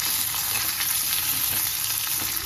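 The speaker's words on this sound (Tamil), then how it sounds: "மூணு பச்சை மிளகா போட்டிருக்கோம்" Three green chillies fry in a pan, making a dense, steady hiss of oil sizzling at close range without pause.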